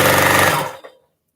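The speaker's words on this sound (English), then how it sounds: "This a Juki sewing machine, guys." A Juki sewing machine runs loud and steady at close range for most of a second, then stops abruptly and falls silent.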